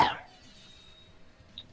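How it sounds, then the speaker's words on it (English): One short cough from a person bursts out at the very start, close and fairly loud, followed by near silence with a faint background hum. "Meanwhile, Jova's coughing"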